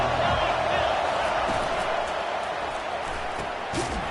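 A basketball arena crowd at a college game between Arizona State and UCF keeps up a constant loud roar, with a commentator talking over it.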